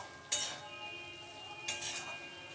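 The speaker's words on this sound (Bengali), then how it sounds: "এবার একটু নাড়াচাড়া করে দেখে নেব কত দূর হয়েছে" A spoon stirs a potato and drumstick (sojne) mustard curry in a cooking pot, making two sharp metallic clinks against the pot over a quiet background.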